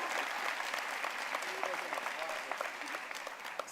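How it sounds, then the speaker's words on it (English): Sustained audience applause at a high school commencement ceremony. The clapping is steady and fairly distant, with faint voices mixed into the crowd for the whole stretch. "Please step out and let's give them a round of applause."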